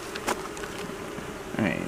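Bees buzz around an open beehive during an inspection, with a close, steady insect drone and a few brief louder passes as individual bees fly near.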